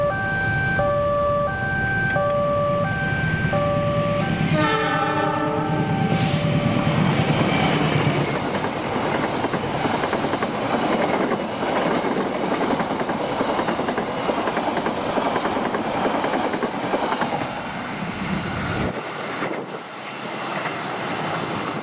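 An Argo Bromo Anggrek passenger train, running with older ex-Taksaka coaches, rolls past loud and close with a steady rumble of wheels on rail, opening with a siren-like horn blast before the roar fades.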